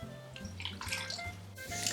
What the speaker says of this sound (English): All that water goes in.